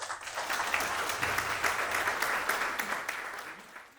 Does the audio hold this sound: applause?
yes